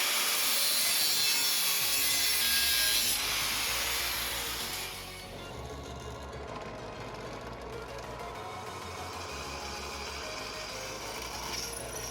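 A 1/8 inch steel bar with surface rust being cut to length with a power saw, a steady, loud rasping grind that eases slightly partway through and runs on without a pause.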